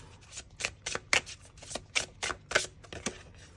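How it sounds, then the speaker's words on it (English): Celtic Spirit oracle cards shuffle in a steady run of crisp, close riffling flutters, repeating roughly every half second with no talking over them. "I'll grab out a Celtic Spirit Oracle card for the collective."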